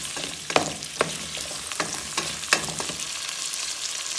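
Chiles frying in a pan with tomato, a steady close sizzle broken by a few sharp stirring clacks of a utensil against the pan, with no voices.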